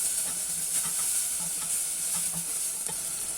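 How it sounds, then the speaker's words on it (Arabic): Chicken liver is stir-fried in a hot pan, giving a steady bright sizzle with soft scraping stirs repeating through it, close and fairly loud with no talking. "انزل بقى بالكبد بتاعتي، اشوحها كمان دقيقه"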